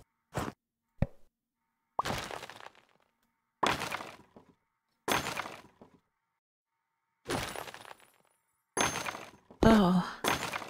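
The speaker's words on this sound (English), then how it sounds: "I feel like I'm smashing them all" Objects being smashed in the building game House Builder, heard as about eight separate sharp thunks and breaking impacts spread out with short gaps of silence, the last ones louder and more crowded together.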